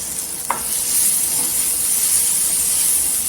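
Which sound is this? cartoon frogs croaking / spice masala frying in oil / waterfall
spice masala frying in oil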